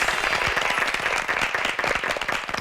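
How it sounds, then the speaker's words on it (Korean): A studio audience at a televised high-school debate competition applauds to welcome its audience judges, with a dense, sustained burst of many hands clapping together, fairly loud and close throughout. "방청객 심사단 여러분을 박수로 환영합니다."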